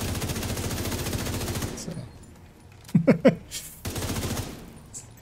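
A short burst of video-game gunfire, three or four sharp shots in quick succession, rings out between stretches of streamer talk, with a single spoken word just before it.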